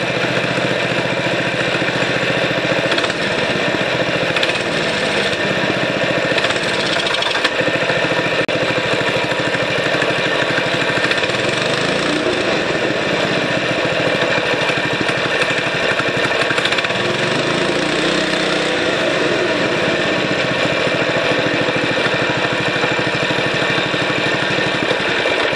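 A 6.5 hp small engine idles low with a continuous buzzing, throbbing drone, steady and close for the whole stretch with no talking.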